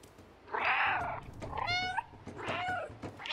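Three distinct cat meows, close and fairly loud, spaced about a second apart, with the middle one rising and wavering, over a faint low background rumble.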